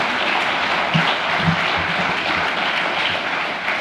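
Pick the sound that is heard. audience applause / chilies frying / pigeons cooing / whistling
audience applause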